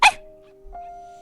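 A dog in a Wizard of Oz radio play gives one sharp, close bark, followed by a steady electronic hum and a soft thump.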